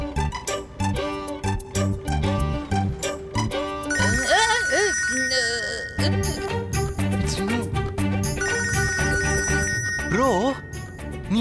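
A telephone rings with a repeated melodic ringtone after a number is dialled, in a Tamil television serial scene, playing over background music with voices talking.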